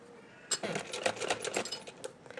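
A sewing machine stitches fabric for a baby girl's summer frock, sounding as a quick, close run of rapid mechanical stitches lasting about two seconds after a brief quiet start.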